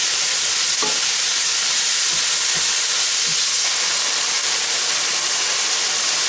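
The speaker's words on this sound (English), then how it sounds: "Browning up my meat." Meat browns in a hot pan with a steady, dense sizzle and frying hiss that carries on throughout, plus a few soft stirring scrapes. No one speaks.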